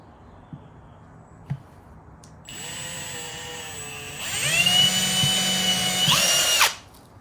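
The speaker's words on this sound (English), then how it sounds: "Drilling also helps so that the wood doesn't splinter." A power drill whirs steadily, then its pitch rises as it bites into wood, running for about four seconds before stopping abruptly. Close and loud.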